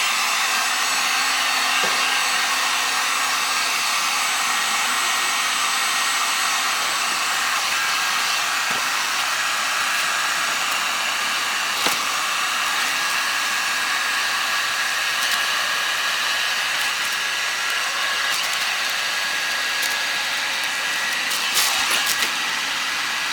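A heat gun blows hot air in a steady, unbroken hiss while softening old vinyl wrap on a car body, with a few small clicks and taps and no talking.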